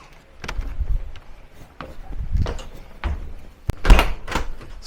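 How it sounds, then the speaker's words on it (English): A holiday caravan door opening at a seaside holiday park, with several soft thumps and rattles of the door and latch, a sharp click near the end, and faint voices in the background. "The door should open, which it is."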